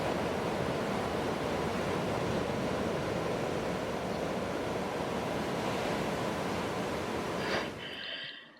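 Ocean surf from a surfing session plays as a steady, loud wash of breaking waves and rushing water with some wind, then cuts off abruptly near the end.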